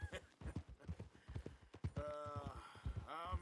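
Horse hooves clip-clopping at a steady walking rhythm in the Western video game Red Dead Redemption 2, close and clear, with a brief whinny-like tone partway through and no talk over it.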